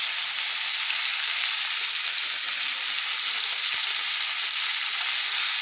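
Chopped beans fry in a hot pan with a dense, continuous sizzle that stays loud and even throughout, close up, with a faint low thud partway through and no voices.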